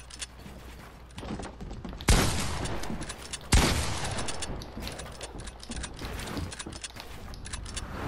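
Gunfire in the video game Fortnite, rapid bursts of shots and mechanical clatter, with two sharp loud blasts standing out, close and fairly loud against busy game noise.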